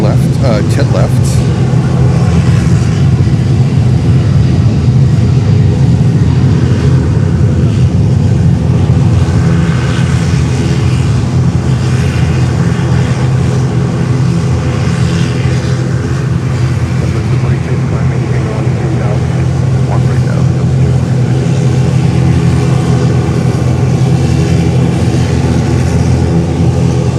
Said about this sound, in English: United 321 Neo. Taking off here, runway 10 left.